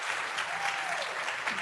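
Short, steady round of applause from a gathered audience at an event, an even patter of many hands clapping.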